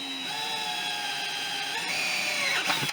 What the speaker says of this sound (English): Not a whole lot of pressure needed, especially if you have a good sharp drill set.